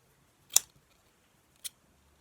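Scissors trim strips off a no-sew t-shirt bag with two crisp, close snips about a second apart in an otherwise quiet room.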